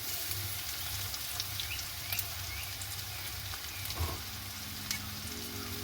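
Crushed ginger and garlic sautéing in a hot pan, giving a continuous crackling sizzle with a low rumble beneath and a brief clatter of stirring near the end, alone and without talk.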